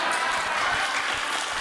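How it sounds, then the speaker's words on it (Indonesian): Audience applause during an Islamic talk show with two clerics, a dense continuous wash of clapping, loud and steady throughout the short moment. "Oke, tepuk tangan Samsul, tepuk tangan Samsul."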